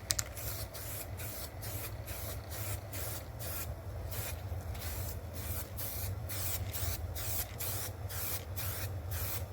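Aerosol coating sprayed in repeated short bursts onto Kawasaki Vulcan motorcycle parts, a steady rhythm of hissing pulses over a low background hum, moderately close.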